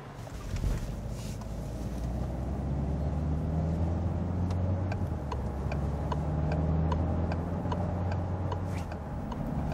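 A Peugeot HYbrid4 hybrid car's diesel engine runs steadily as a low drone after taking over automatically, while a regular ticking, like a turn signal, repeats through the whole stretch.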